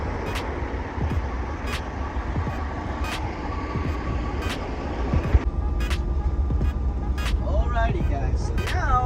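Stepdeck semi truck driving on the road, a steady low engine drone and road rumble from the cab, with clicks and rattles and someone talking over it.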